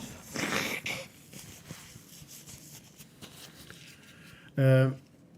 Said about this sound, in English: I need to blow my nose as usual